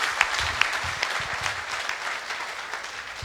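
Audience applause at a reception programme, a steady wash of clapping from a gathered crowd lasting a few seconds, with a couple of sharper claps standing out near the start.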